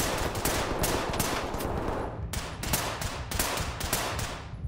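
Rapid bursts of gunfire in a tactical shooter video game set in a night club, loud and dense, with several volleys of automatic shots broken by brief pauses.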